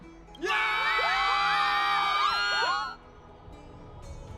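A crowd in Honkai: Star Rail cheers loudly in unison, a dense roar of many voices with rising whoops that swells, holds for about two and a half seconds, then cuts off sharply.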